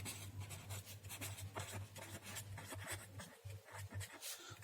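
Chalk or marker scratches across a board in quick repeated strokes during a physics lecture, faint and steady over a low electrical hum.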